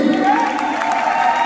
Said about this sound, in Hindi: जोरदार ताली एक बार धर्मेंद्र सर के लिए